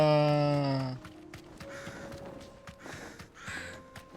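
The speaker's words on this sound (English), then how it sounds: "Get out of the way, crows." Crows cawing in the video game Final Fantasy 16, a loud harsh caw at the start followed by quieter scattered calls and game sounds underneath.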